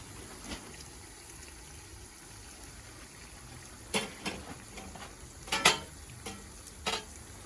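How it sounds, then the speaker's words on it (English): South African beef curry sizzles softly in a pot with a low steady hiss, punctuated by a few louder spitting crackles and occasional scraping clicks. "You can see that sizzling."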